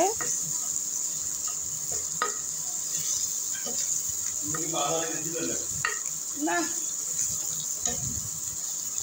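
Boiled beef pieces are stirred and fried in a pan on a stove, with soft sizzling under a constant high hiss and scattered scrapes and clinks of a spoon against the pan.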